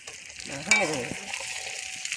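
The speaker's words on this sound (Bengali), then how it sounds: "চলো আমি নাড়িয়ে দিচ্ছি" Food frying in a pot at a New Year picnic is stirred with a few scraping strokes over a steady close sizzle, with a brief voice near the start.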